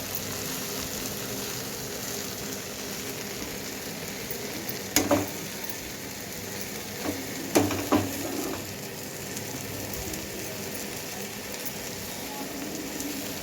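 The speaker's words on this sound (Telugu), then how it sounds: "మొత్తం ఇలా కొత్తిమీర అంతా దగ్గరగా అయిపోయి కొంచెం దీనిలో ఉన్న పచ్చివాసన పోయే వరకు ఇలాగా మగ్గించుకోవాలండి" Chopped coriander cooks down in a pan for tomato chutney, a low continuous sizzle broken by a few sharp clinks of a spoon against the pan around the middle, close and fairly quiet.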